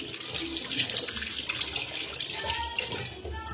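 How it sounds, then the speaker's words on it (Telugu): Tap water runs steadily over a steel oil container during rinsing, a continuous close splashing stream. "ఇప్పుడు వాటర్తో కడిగి చూద్దాం"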